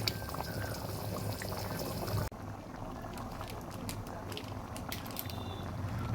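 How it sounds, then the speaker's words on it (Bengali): Mixed lentil dal bubbles in a pot, a steady close burbling and popping that continues after a brief cut, with a few faint clinks and no clear speech. "ডালটা সুন্দর ফুটে এসেছে।"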